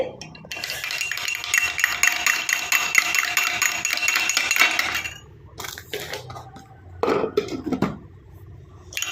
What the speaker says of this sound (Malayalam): മുട്ട അടിച്ച് നല്ലപോലെ പതപ്പിച്ചാൽ